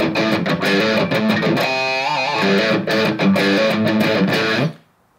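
A distorted electric guitar plays a quick, driving riff with sustained gritty notes, loud and up close, then cuts off abruptly near the end.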